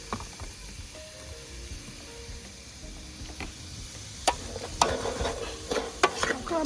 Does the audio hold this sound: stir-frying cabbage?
yes